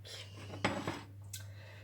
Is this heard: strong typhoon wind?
no